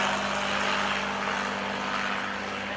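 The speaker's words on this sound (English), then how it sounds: "I think that's our flight. We missed it." Propeller airplane passing at an airshow, a steady loud droning engine roar with a low hum that holds for the whole stretch, no voices over it.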